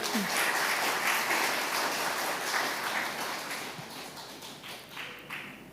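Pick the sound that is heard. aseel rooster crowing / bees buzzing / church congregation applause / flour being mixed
church congregation applause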